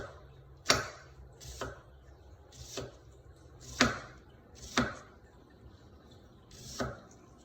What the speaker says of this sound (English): Then the recipe calls for finely diced onion. So what I need to do is I need to make really thin slices.